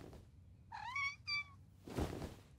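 A kitten in a Polly Pocket cartoon gives two quick, high, rising meows in close succession, followed by a soft thump, faint and close.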